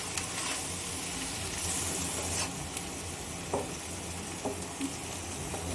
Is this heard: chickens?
no